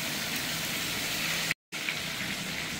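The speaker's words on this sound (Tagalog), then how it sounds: "Dagdagan natin ng tubig." Water pours steadily into a pot of bulalo beef soup, a continuous close splashing gush that breaks off for a moment and then resumes.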